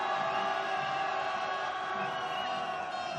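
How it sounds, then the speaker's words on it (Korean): Crowd of marchers at a candlelight protest march letting out a sustained collective shout, a dense continuous roar at steady loudness throughout. "함성 한번 질러보도록 하겠습니다"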